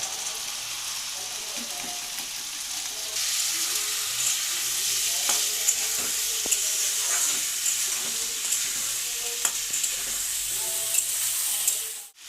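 Green peas sizzle in hot oil in a pan with salt, chili powder, roasted coriander and cumin powder, a steady close frying hiss broken by scattered stirring clicks and scrapes, with no talk.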